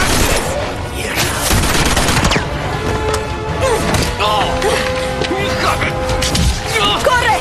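Dense, continuous gunfire fills a cutscene from Uncharted 2, with rapid bursts, heavy thuds and crashes layered over loud, shouting voices throughout.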